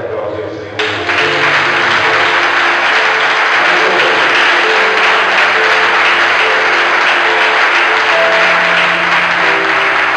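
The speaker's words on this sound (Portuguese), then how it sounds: "Pode aplaudir o Senhor." Steady, loud applause from a church congregation fills the space after a short lead-in, with sustained organ or keyboard tones held underneath the clapping throughout.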